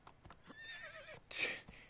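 A horse in Assassin's Creed II whinnies in a clear, rising and falling neigh, followed by a loud burst of hoofbeats and rushing noise, fairly close and with no talk over it.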